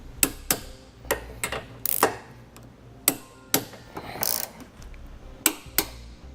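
Bolts being tightened on a trailer hitch receiver under a 2012 Honda CR-V, with a ratchet giving loud, close clicking bursts and sharp metallic knocks at uneven intervals.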